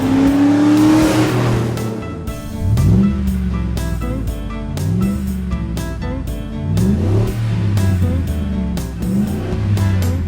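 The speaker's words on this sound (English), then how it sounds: "got that throaty roar to it, and when you mash on it, you can hear that tiger unleashing from the engine" SUV engine revving hard through a cat-back exhaust with a 4-inch tip, heard nearby: repeated rising throaty pulls that climb and fall in several bursts, alone with no talking.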